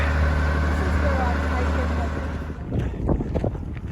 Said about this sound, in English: Since the last town it's got really, really windy, so we're walking into a headwind.